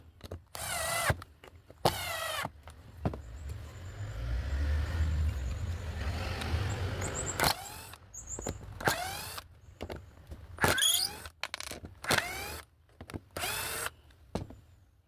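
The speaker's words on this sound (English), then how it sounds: "we'll drive 5 screws into wood at speed level 1" A Bosch GDR 120-Li cordless impact driver drives five 2-inch black gypsum screws into wood at speed level 1, a run of loud, close, rattling bursts, some short and one longer, separated by brief pauses.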